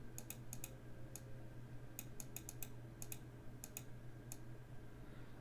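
Quiet keystrokes come from a computer keyboard in small bursts of a few quick taps over a low steady electrical hum.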